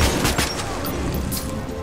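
Shotgun blasts in the video game Metro 2033 Redux, several loud close shots in quick succession and then a rumbling tail, with no talk over them.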